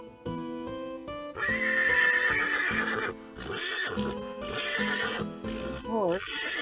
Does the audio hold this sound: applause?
no